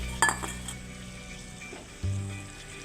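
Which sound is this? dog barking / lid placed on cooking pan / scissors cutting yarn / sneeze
lid placed on cooking pan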